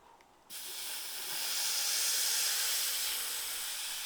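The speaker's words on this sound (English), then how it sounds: "I've just got a valve removal tool, and then there's a lot of pressure that'll come out" Air pressure rushing out of a car tyre's Schrader valve with the core pulled by a valve removal tool, a loud close hiss that starts abruptly and holds steady, with no talking.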